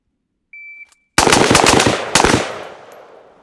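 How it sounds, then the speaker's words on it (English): A duty-style M4-type rifle rips off a fast, loud burst of shots that ends with a trailing echo, after a brief electronic beep. "I'm able to get this performance ripping the gun nice and fast with good technique."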